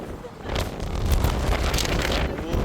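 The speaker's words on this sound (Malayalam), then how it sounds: "കാറ്റടിയൊക്കെ ഉണ്ട്." Wind blows at the Chathurangapara hilltop viewpoint in Munnar, buffeting the microphone in a steady, loud broadband roar that rises in gusts.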